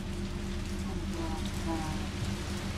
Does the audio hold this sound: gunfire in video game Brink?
no